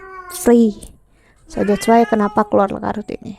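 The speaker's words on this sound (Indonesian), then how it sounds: "Sorry for the noise ya kalau kamu dengar suara kucing." A house cat meows near the microphone, a short high-pitched call followed by someone speaking at length over it.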